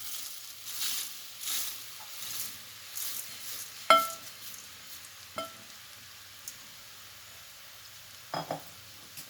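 Mysore puffed rice being fried and stirred in a pan, with a faint soft sizzle broken by a few sharp scrapes and clinks of a spoon against the pan, quiet and sparse with no talking.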